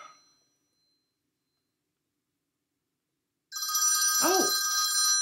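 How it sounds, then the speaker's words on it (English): A telephone rings with a loud, close electronic trill that starts abruptly after near silence and carries on to the end, with a brief voice over it. "It's the phone."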